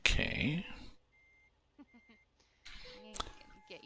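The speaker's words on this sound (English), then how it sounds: "I'm gonna get used to this traffic fine little noise." A short traffic-fine notification beep from the American Truck Simulator game chirps in a brief rapid sequence of soft electronic tones, set between bursts of louder game noise and quiet gaps.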